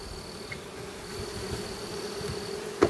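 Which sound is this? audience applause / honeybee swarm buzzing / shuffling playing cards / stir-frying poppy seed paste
honeybee swarm buzzing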